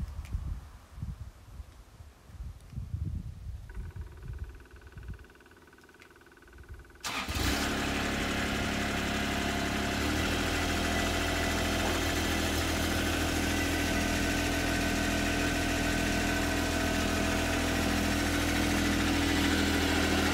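Carry-all side-by-side utility vehicle with a small trailer behind it, loading wood chip mulch for macadamia trees; its engine starts and settles into a steady, loud, close idle that runs continuously after quieter outdoor background.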